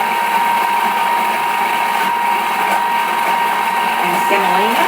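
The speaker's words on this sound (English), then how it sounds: "place eggs and sugar into the bowl and mix on speed 6 for 1 minute" A Thermomix whirs steadily as it beats eggs and sugar at speed 6, giving a constant high motor whine with no breaks throughout.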